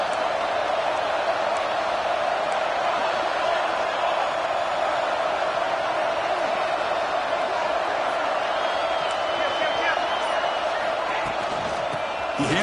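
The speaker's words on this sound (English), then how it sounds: "this crowd is fired up. Listen to this noise here" A football stadium crowd at a college game against Georgia Tech cheers in a steady, dense roar that holds unbroken throughout.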